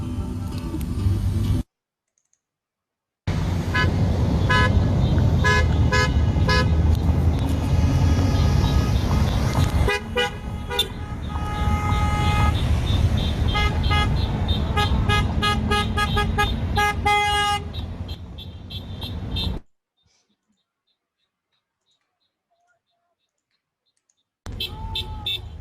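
Car horns sound loudly and repeatedly from a protest car caravan rallying for Medicare for All, a dense stretch of overlapping toots and honks with traffic noise, broken by short silent gaps near the start and end.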